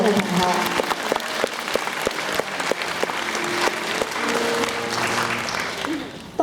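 A school hall audience gives sustained, loud applause for award-winning students at a primary school graduation ceremony. Dense clapping continues throughout, with a voice faintly heard over it.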